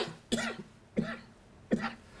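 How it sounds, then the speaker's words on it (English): Three separate coughs from one person at an evening talk, evenly spaced about two-thirds of a second apart, moderately close and fairly quiet, with no speech around them. "I haven't coughed like 30 years."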